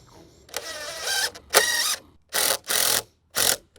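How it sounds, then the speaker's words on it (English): Driving a screw into a shed foundation base with a power driver, five separate whirring bursts with short pauses between them, loud and close, the early bursts rising in pitch as the screw bites. "I'm going to drive this screw first at the bottom and pull that base over."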